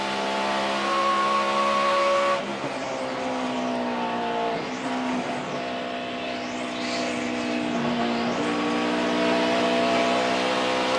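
A NASCAR Sprint Cup race car at Pocono holds its engine at high RPM, producing a sustained, fairly close harmonic whine that shifts pitch slightly as it sweeps through, with other cars faintly passing in the background.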